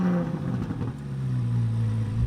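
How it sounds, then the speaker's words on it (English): A Corvette flat-plane crank V8 engine revs and drones, its pitch rising and holding in a smooth, loud, continuous roar. "The new Corvette's flat, plain crank V8 is phenomenal. It sounds amazing, like an American Ferrari."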